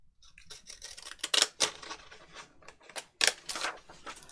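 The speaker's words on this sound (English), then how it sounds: "So get my decollage scissors out." Decollage scissors snip through paper in a run of crisp, close cuts, with several sharp bursts of blade closing and softer rustling between them, no talking.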